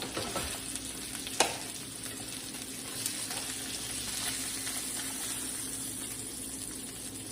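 Salmon pan-grilling in a frying pan, a steady close hiss of oil sizzling throughout, with one sharp knock early on.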